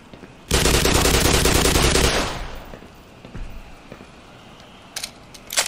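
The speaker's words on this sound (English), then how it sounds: "shotgun, absolutely devastating at short range" A shotgun blast in the first-person game Black Mesa: one loud, dense burst of fire lasting about a second and a half, then a fading tail, followed by faint scattered clicks and small knocks.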